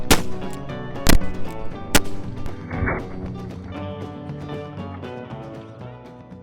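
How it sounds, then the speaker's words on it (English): Gunshots from a Remington Carbine fitted with a .45 Colt conversion cylinder, a few sharp reports spaced about a second apart with ringing decay, over a layer of music. "Today I'll be shooting the Remington Carbine, but with a 45 Colt conversion cylinder."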